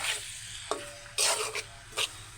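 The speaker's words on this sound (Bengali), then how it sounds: "আমি একটু হালকা কড়াইতে ভেজে নেব" Food fries in a little oil in a wok, giving a hissing sizzle with a few louder bursts as it is stirred or turned, close and without speech.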